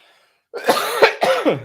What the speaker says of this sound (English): It made me cough.